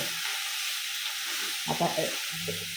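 Spice powders and green chillies for an okra curry roast in a pan with a constant close sizzle, broken by a few brief stirring clatters partway through.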